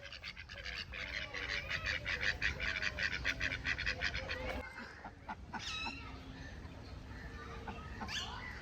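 Rapid repeated quacking and honking from a group of ducks at Chhatbir Zoo in Chandigarh, loud and close at first, then sparser calls with scattered chatter and soft voices.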